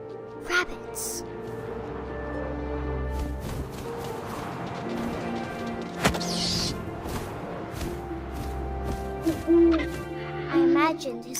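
Owl hooting in the video game What Remains of Edith Finch, a few soft hoots over a steady windy ambient bed and game music, with short louder bursts toward the end.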